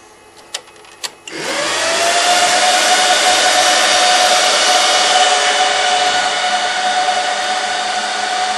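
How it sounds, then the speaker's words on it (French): An HP ProLiant DL385 G1 rack server powers on after two faint clicks, its fans spinning up into a loud, steady, high-pitched whir with a sustained tonal whine that settles and holds. "Ça fait un petit peu de bruit, hein. Mais ce qui est bien c'est qu'on peut retirer les ventilateurs."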